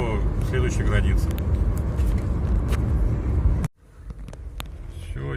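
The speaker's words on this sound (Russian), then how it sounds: "Все, еду по Батуми" A car driving through Batumi gives a steady, loud road and engine roar with wind buffeting inside the cabin, which cuts off abruptly near the end and leaves a quieter, intermittent background.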